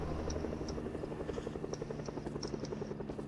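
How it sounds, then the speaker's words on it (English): A helicopter in the video game Fortnite whirs with a steady rhythmic rotor chop, moderately loud and continuous throughout. "I need to get a helicopter real quick. The helicopter's up there."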